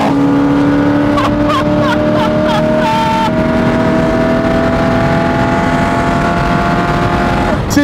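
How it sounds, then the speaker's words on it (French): A 1973 Chevrolet Corvette with a 454 V8 revs hard and climbs through quick gear changes, a loud, close engine roar that holds steady at high revs from inside the car. "Là, on a pu vraiment aller chercher les régimes moteurs."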